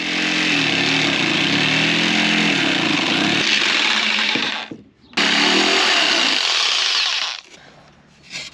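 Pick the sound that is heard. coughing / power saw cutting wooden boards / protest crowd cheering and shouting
power saw cutting wooden boards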